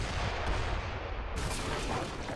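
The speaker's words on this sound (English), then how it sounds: "I've got my mortars." Mortar artillery fire in Age of Empires III, a dense continuous roar of booming in-game battle noise, loud and steady throughout a short stretch with no voices.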